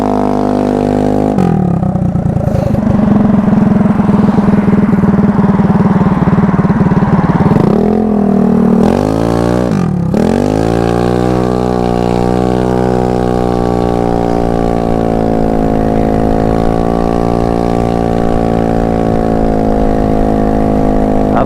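Loud, steady engine drone from a Honda Ruckus scooter with a GY6 engine and an open header pipe, revving and dipping a couple of times early on, then holding a sustained buzzing tone while riding.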